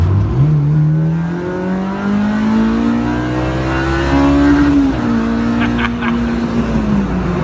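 A Honda K20 engine gets a short rev blip, its pitch climbing and holding steady before easing back down. The engine note is loud and close and plays alone.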